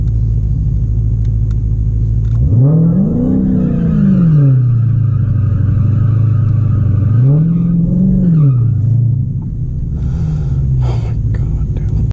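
A Dodge Hellcat drag car on a quarter-mile strip, a loud, deep engine rumble that swells through two rev surges and then settles, with faint talk underneath.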